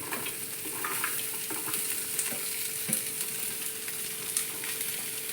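Chopped onions, small shallots and green chillies fry in a pan for a Kerala-style drumstick theeyal, giving a steady, even sizzle with faint stirring scrapes, close and alone with no voices.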